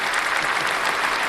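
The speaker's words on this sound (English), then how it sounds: "it deserves a nice clap" A burst of dense, steady hand-clapping applause, loud and close, filling the short moment on its own without any voices over it.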